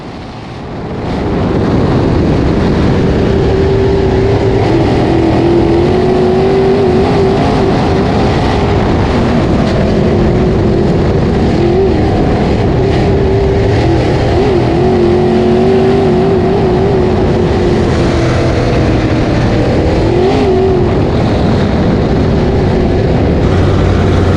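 A dirt modified race car engine roars and revs hard as it accelerates on a restart, loud and continuous, with wind buffeting the onboard microphone.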